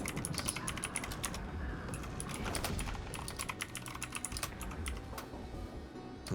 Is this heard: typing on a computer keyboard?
yes